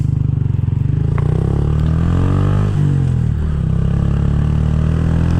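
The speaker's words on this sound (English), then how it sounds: "I saw a bike ride by." A motorcycle rides past close by, its mid-pitched engine droning loud and steady with a slight rise and fall in revs as it goes by, with no talk over it.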